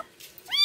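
An unhealthy cat being rescued gives a single short, rising meow at the end after a near-silent moment, close and clear.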